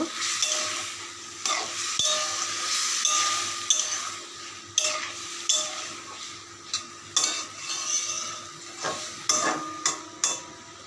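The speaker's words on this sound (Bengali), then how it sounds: "সমস্ত কিছুকে একটু ভালো করে নেড়ে নেব" Lote fish and turmeric powder stirred in a frying pan, a continuous close sizzle broken by sharp clinks and scrapes of a utensil against the pan at an irregular rhythm.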